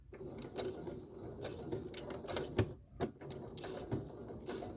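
Sewing machine running a seam across fabric for a beginner boxy zipper bag, with a short back stitch at the edge; a steady mechanical whir with rhythmic clicking and a few louder knocks, fairly close and quiet, no talking.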